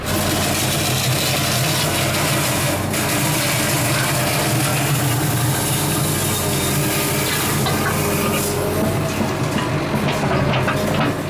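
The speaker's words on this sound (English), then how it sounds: "But I own a backhoe." A backhoe's engine runs steadily while scooping thick pond muck at an abandoned resort, a loud continuous rumble with clanking mechanical rattles throughout.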